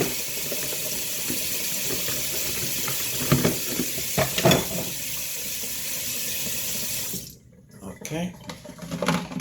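Tap water running steadily into a filter pitcher lid at a kitchen sink in the early morning, a continuous broad splashing rush with a few clatters, cutting off near the end as handling noises follow.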